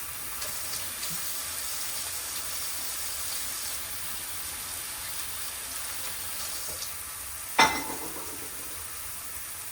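Vegetables fry in a pan with a steady, even sizzling hiss throughout, and a single sharp clank of cookware comes near the end.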